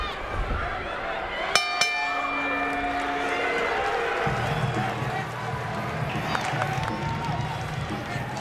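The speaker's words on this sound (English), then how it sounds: "A very large and very animated crowd is in attendance here at Bellator 39" Large, animated crowd at a Bellator 39 MMA event, a steady roar of cheering and noise with a couple of sharp clinks, heard under commentary throughout.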